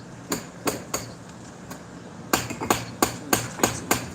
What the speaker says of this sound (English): Hammer that a little bit without breaking it.